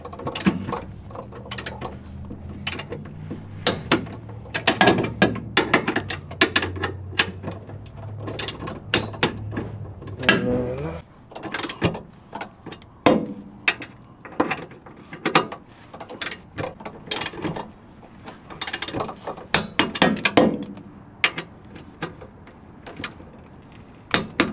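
Sway bar bolts being tightened on a Mk7 Volkswagen GTI, alternating sides: a close series of rapid metallic ratchet clicks and clattering mechanism sounds, in irregular bursts throughout with no talking.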